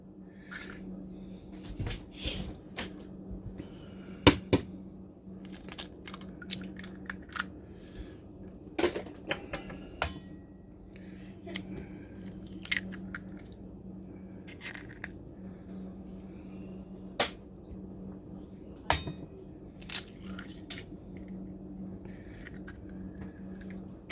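Four large eggs cracked one after another into keto birthday cake batter, giving sharp, close shell taps and clicks scattered through a quiet kitchen with a steady low hum beneath.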